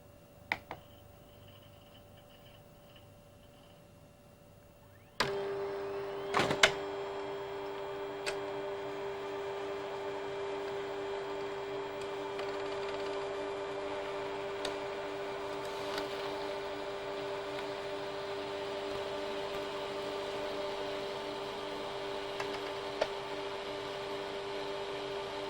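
A computer printer from a 1997 home computer setup starts up and runs a print job, giving a steady mechanical whir and hum with a few sharp clicks near the start, moderately close and without speech.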